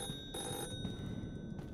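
Phone ringing inside a Roblox horror game house, a steady electronic ring with sharp tonal lines sounding over a low rumbling ambience, in short bursts across the whole moment.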